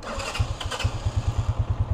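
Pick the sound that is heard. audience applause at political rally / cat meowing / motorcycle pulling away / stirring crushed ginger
motorcycle pulling away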